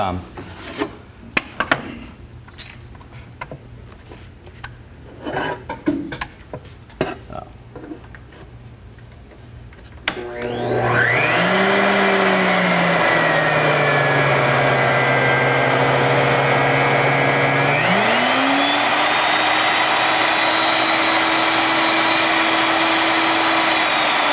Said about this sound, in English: when you're using routers, when you're using any of your power tools,